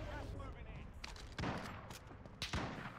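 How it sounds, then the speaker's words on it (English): Sniper gunfire in a video game: a couple of distant, faint cracks spaced about a second apart, over low background noise and some talk. "Dude, I'm getting sniped over here."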